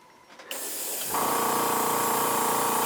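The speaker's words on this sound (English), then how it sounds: "just going in and spraying like so" Spray paint goes onto a scale model: a short quiet pause, then a sudden close hiss that grows and holds steady as a continuous airbrush-like spray.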